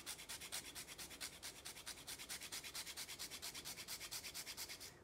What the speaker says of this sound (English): a 1/4 teaspoon of nutmeg. And I like to freshly grind mine in.